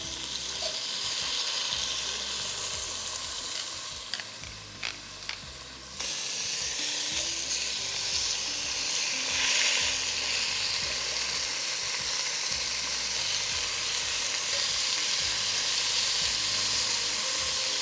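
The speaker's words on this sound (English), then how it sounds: "we're gonna sear the short ribs for about 2 to 3 minutes on each side." Short ribs sear in olive oil in a hot pan, a loud, steady sizzle and hiss throughout, with a few brief clinks and shifts near the start and no one talking.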